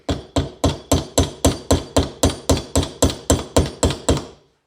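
A mallet strikes a sharp chisel in a fast, even run of about fourteen close, loud blows while working an old handle out of a vintage axe head, each hit ringing briefly before the next.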